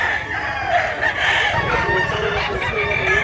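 Roosters crow repeatedly among many clucking chickens at a gathering of fowl in Mantalungon, Cebu, several calls overlapping in a busy, continuous background of birds.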